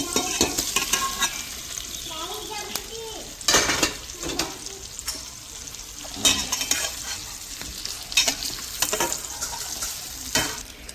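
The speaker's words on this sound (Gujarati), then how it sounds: "વઘાર થઈ ગયો છે, તો અંદર ઢોકળા નાખી દઈએ" Dhokla pieces are stirred and scraped in a sizzling pan of hot tempering with sesame and chilies, with bursts of crackling frying and clattering strokes at irregular intervals.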